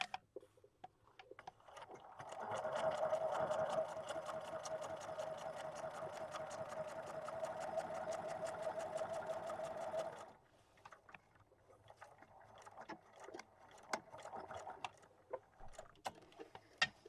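A sewing machine stitching along the bottom of a paper window envelope, running in one steady buzzing burst for several seconds before stopping, followed by scattered quieter clicks and handling noises.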